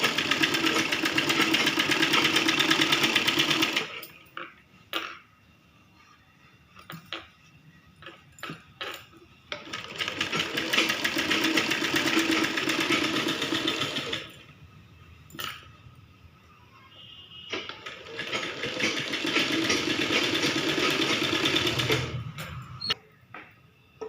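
A sewing machine stitches puffed butta sleeves on a blouse in three long steady runs, separated by quieter gaps of fabric handling with small clicks and clinks.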